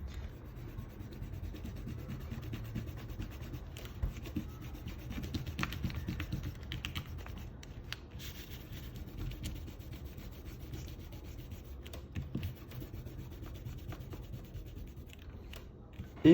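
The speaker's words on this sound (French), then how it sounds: "Ok, on peut gommer nos traits de construction." Pencil construction lines being erased on paper, a faint, close, continuous scrubbing with small irregular clicks, steady throughout and nearly alone.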